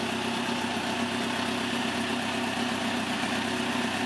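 A 2005 Kawasaki ZX10 motorcycle engine idles steadily, a close, even, continuous mechanical hum with no revving and no voices.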